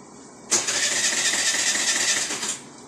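A Suzuki Burgman scooter with an idle-control fault cranks and catches, running loudly and steadily for about two seconds before it dies off abruptly into quiet.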